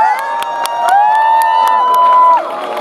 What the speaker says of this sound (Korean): 한번 큰 박수와 함성 부탁드리겠습니다